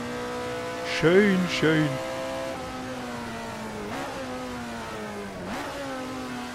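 An Alfa Romeo 33 Stradale in the Assetto Corsa racing game at the Feldbergring, its engine droning steadily in tone and climbing through gear changes, with a short burst of louder revving near the start and someone speaking briefly over it.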